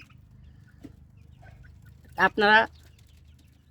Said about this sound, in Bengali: যারা দেশি মুরগি এরকম খাঁচার ভিতরে পালেন